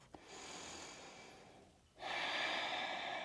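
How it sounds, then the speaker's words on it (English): Deep breathing during a slow yoga flow practice: a long, soft inhale, a short pause, then a fuller, louder exhale, close to the microphone with no talking. "Deep breath in. Deep breath out. One more breath."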